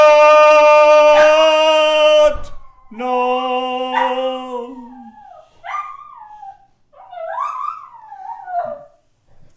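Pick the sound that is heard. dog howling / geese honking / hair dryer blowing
dog howling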